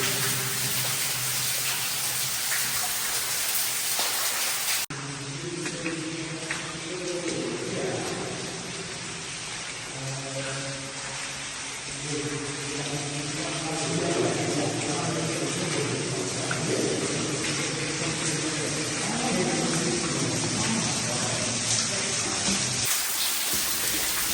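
Steady, rushing water from a waterfall inside a flooded mine fills the space with a constant broadband hiss and roar, while faint voices murmur beneath it.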